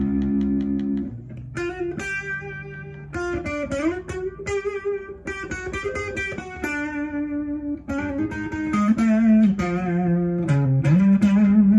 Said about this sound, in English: you just step on it and it turns on and it sounds like this